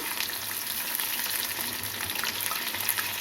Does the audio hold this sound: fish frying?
yes